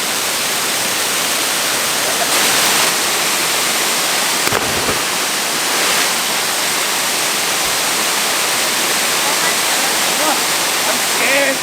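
A waterfall roars steadily and loudly, broken by one sharp, heavy splash near the middle as someone plunges into the water below.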